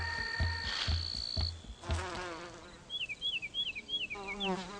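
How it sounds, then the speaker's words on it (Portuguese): Solitary bees working flowers make quiet, close buzzing in short, uneven bursts, with some thin, wavering, chirp-like tones mixed in. "As abelhas solitárias são polivalentes. Em cada flor, elas sugam o máximo de néctar e pólen quanto seja possível"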